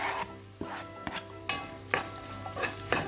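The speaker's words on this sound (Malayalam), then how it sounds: "ഇനി ഇതിലേക്ക് സവാള അരിഞ്ഞത് ചേർത്ത് കൊടുക്കാം" Steady sizzling of sliced onions and shallots frying in a pan for duck curry, broken by repeated scraping strokes of a spatula stirring roughly every half second.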